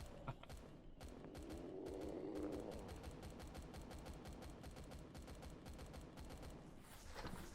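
Rapid bursts of sniper rifle fire in the sci-fi survival game Empyrion Galactic Survival, a dense run of sharp repeated shots over continuous loud battle noise, briefly easing before another cluster of blasts near the end.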